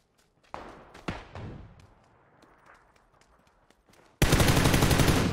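Assault rifle gunfire in a video game: a few sharp single shots with echoing tails, some quieter distant pops, then a loud sustained burst of rapid automatic fire at the end.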